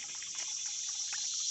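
Water bubbles and gushes steadily from a hose fitted on a pipe nipple at a ram pump outlet, a close, continuous hiss with faint gurgling pops and no voices.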